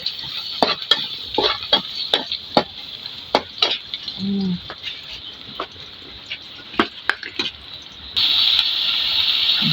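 Food sautéed in a pan over a strong fire, with a steady high hiss of sizzling punctuated by sharp, repeated scraping and stirring strokes of a utensil, close and loud.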